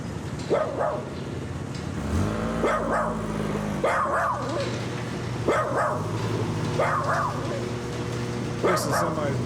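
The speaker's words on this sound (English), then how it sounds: "This is somebody's dog." A dog barks repeatedly within a song, five or six bursts of loud yapping barks at a steady spaced rhythm over a sustained musical backing.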